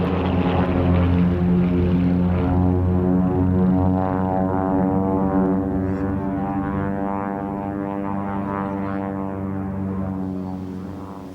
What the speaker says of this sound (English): This is the Polikarpov I-153 biplane, and it's the fastest biplane fighter ever produced in the world.